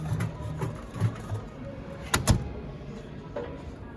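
A Hoover 9 kg washing machine gives its drum a quick tumble: a steady mechanical whir broken by a few soft thuds and one sharper knock, with no talk.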